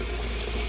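Warm water running steadily into a tub, a continuous close splashing rush at even loudness, with no voices.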